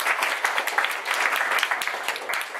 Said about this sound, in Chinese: 那我们就掌声鼓励，